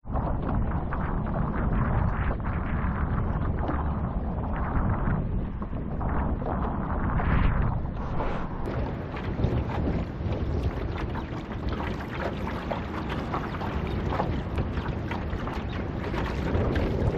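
Gusty wind buffets the microphone beside an urban lake, a continuous broad roar that builds and grows harsher partway through, with no one speaking.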